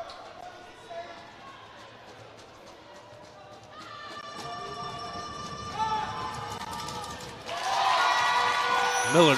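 Crowd noise at a girls' high school basketball city championship game, a low murmur that swells into louder cheering and shouting, under a commentator's voice.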